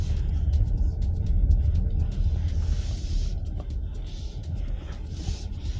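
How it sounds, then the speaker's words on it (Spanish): Inside the cabin of a 2026 Ebro S800 PHEV seven-seat SUV running in electric mode, the air conditioning blows at a fairly high setting over a steady low rumble of road noise, with faint light ticks overhead. "Incluso el aire es el que va un poco más alto y sentimos el ruido del aire"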